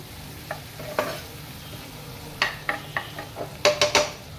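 A spoon stirs spiced food in a frying pan after ground coriander has been added, giving a string of short scraping strokes. The scrapes come in a loose rhythm over a low, steady sizzle, and they grow louder and closer near the end.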